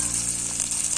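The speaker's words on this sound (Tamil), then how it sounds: "அது கூட நறுக்கி வச்சுருந்த வெங்காயமும் 2 கொத்து கறிவேப்பிலையும் சேர்த்து நல்லா வணக்கிக்கோங்க." Chopped onions and curry leaves sauté in hot oil with cumin, giving a soft, steady sizzle close by, with a faint low hum beneath and no voices.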